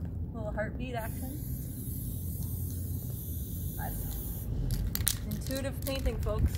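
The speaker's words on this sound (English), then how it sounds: "Here we go with a little professional gold acrylic spray paint," Steady hiss of a gold acrylic spray paint aerosol can running through most of the clip, with brief higher chirps and a louder, sputtering burst near the end.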